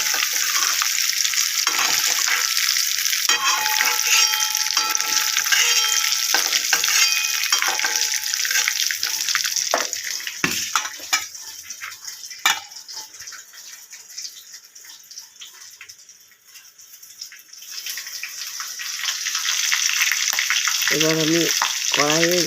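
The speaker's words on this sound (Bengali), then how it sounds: "ঢাকা দিয়ে আস্তে আস্তে পুরো কপিটা ভেজে নিলাম।" Cauliflower frying in a covered pan for dhaba-style aloo gobi, a steady loud sizzle that fades to a quieter hiss midway, then rises again, with occasional clatter of utensils.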